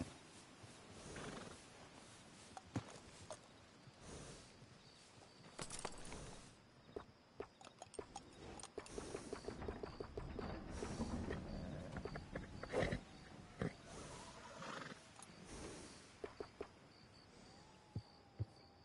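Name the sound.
horse neighing and hooves in the video game Red Dead Redemption 2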